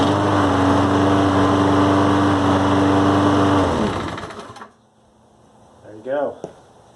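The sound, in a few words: Toro Recycler lawn mower engine pull-started after carburetor swap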